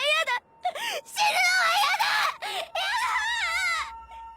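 Anime character Ayano screams in a high, wavering voice, a series of loud close shrieks and wails broken by short gaps.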